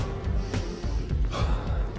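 Deep, forceful breaths drawn in and pushed out before a weightlifting set, several loud close breaths in quick succession.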